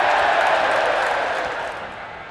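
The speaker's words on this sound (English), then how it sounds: "The crowd absolutely love that." A cricket crowd roars after a six and a catch taken in the stands, a loud, sustained cheer that fades slowly over a couple of seconds.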